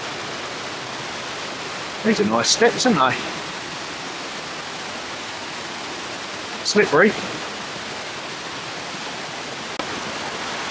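Continuous broadband rush of a waterfall, steady and close, filling the whole scene as someone nears its base on slippery steps; two brief bursts of speech rise above the constant roar.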